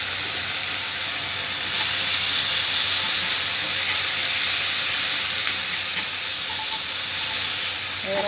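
Sliced marinated beef sizzling in a pan with round mushrooms, a steady loud frying hiss that holds evenly from start to finish, close up and uninterrupted, with no talking.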